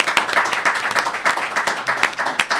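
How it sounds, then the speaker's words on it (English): A brief round of clapping from a small audience at a UK announcement event for a care-transitions research project, with individual hand claps audible and steady in level. "I'd like everyone to join me in a round of applause"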